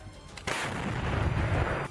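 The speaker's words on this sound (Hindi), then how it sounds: "तोप से हमले शुरू कर दिए गए।" A Russian artillery cannon in the war in Ukraine fires once with a sudden heavy boom, followed by a long, loud, rolling roar that carries on to the end.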